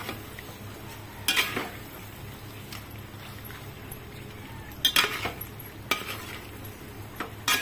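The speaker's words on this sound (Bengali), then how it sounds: "চিকেনটা দিয়ে আমি একটু কষতে থাকবো যতক্ষণ না তেল ছাড়ছে" Chicken for chicken chaap is stirred and fried in a pan until the oil separates: a soft sizzle runs throughout, broken by a few sharp spatula scrapes and clinks against the pan.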